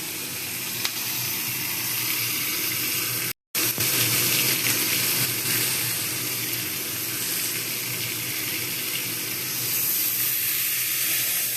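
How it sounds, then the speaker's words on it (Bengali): Chopped onions fry in a pan with cumin seeds, giving a steady, even hiss of hot oil close by that briefly cuts out, with no speech. "পেঁয়াজগুলো একটু ভাজা ভাজা করে নেবো"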